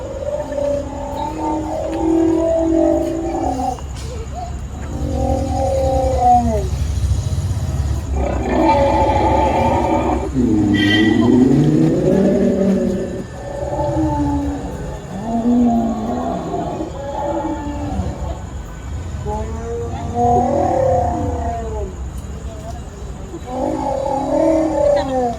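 A dinosaur-shaped ride lets out repeated loud electronic roars and drawn-out growls in uneven bursts, heard close by over a steady mechanical hum, with no talking.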